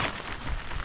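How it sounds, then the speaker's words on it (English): Steady heavy rain pours down on a campsite, a dense, even hiss of drops striking surfaces close by, with no voices. "It's really coming down now, raining pretty good."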